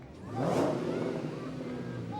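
A gasoline car engine at an Armed Forces Day parade gives a short, moderately loud rumbling pass that swells then holds steady, with wind and outdoor ambience around it.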